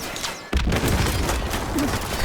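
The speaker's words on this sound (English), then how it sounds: "Bullets flying all around." Gunfire in Call of Duty Modern Warfare Remastered multiplayer, a loud boom followed by a dense, continuous rattle of shots and battle noise, close and steady through the short stretch.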